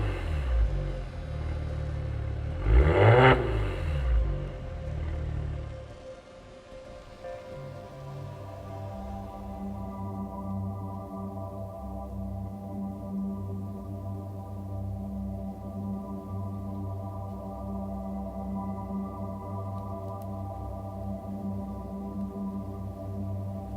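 Maserati Levante S GranSport engine starts with a loud rising crank and roar, then settles into a steady, fairly loud idle hum that continues alone.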